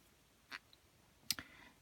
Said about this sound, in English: So the way I trim is I use my Tim Holtz scissors